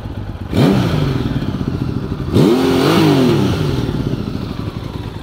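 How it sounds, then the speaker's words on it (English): A Honda Valkyrie motorcycle engine revs hard twice, climbing sharply in pitch and settling back to a loud idle between blips, close by with no talking. "Absolute screamer of an engine."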